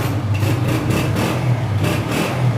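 A 2022 Honda 125 motorcycle engine idling nearby with a steady low throb and rhythmic putter, slight pulses in revs, no talking.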